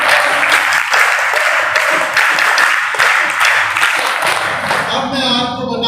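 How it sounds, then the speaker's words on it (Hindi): Loud, sustained applause from a school audience for their principal and teachers, dense clapping holding steady for several seconds before thinning at the end, with scattered voices mixed in. "इनके लिए भी जोरदार तालियां"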